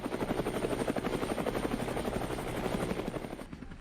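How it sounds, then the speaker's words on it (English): A CH-53 heavy-lift marine military helicopter thunders steadily with a rapid, pulsing rotor chop, loud and close throughout before cutting off sharply near the end. "The CH-53, being a primarily marine helicopter, has a watertight hull which enables it to land safely on water in an emergency situation."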